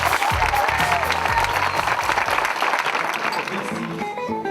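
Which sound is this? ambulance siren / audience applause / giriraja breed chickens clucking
audience applause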